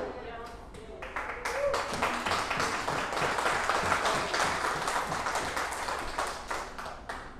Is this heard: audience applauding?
yes